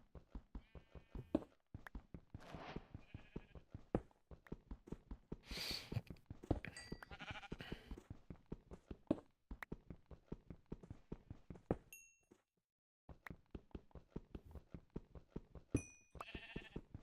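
Sheep bleat repeatedly in a Minecraft-style survival game, short wavering calls recurring throughout alongside hoof-like clip-clop steps and occasional chimes, with no talk over them.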